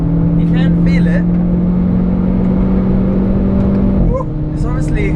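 Renault Clio RS with a 220-horsepower engine accelerating hard on a twisty road, a loud steady in-cabin drone that holds then drops briefly near the end as a gear change, with people talking over it.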